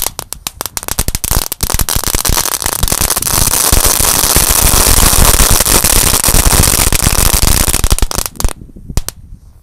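Rapid, dense crackling bursts of four packs of firecrackers popping continuously for several seconds, loud and close, then trailing off into a few scattered final pops.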